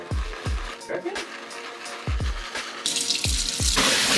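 Water from a tap rinsing a sneaker, a steady flow broken by a few thuds and splashes as the shoe is moved under the stream, growing brighter and hissier toward the end.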